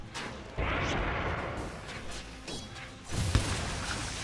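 A tower under attack in Dota 2, heard as a dense, rumbling barrage of impacts and blasts that swells suddenly, holds steady, then surges again with a sharp hit near the end.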